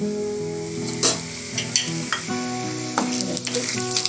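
Whole spices (cumin, cinnamon, bay leaf, black pepper and cloves) sizzle steadily in hot oil for dhaba-style dum aloo, with a few sharp clinks of a spoon stirring against the pan, close and clear with no talking.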